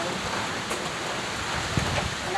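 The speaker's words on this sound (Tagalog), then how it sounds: "Ay, naku ang ulan." Steady rain falls hard and close, a dense continuous hiss with a few heavier splashes and no one speaking.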